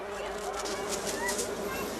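Flies buzzing around strawberries, a close, continuous insect drone that wavers slightly in pitch and holds steady throughout, with no speech over it.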